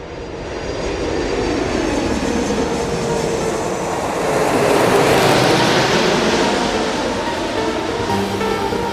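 Airliner engines roaring as a flight departs Tokyo for Vancouver, a loud continuous broadband drone heard from the cabin that swells midway through the takeoff run and then holds steady.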